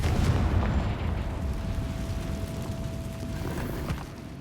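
Confringo, a blasting spell in Hogwarts Legacy, bursts with a deep booming explosion that rumbles and slowly fades, with a faint tonal hum beneath.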